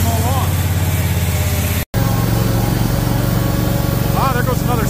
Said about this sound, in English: I'm gonna go mow lawn.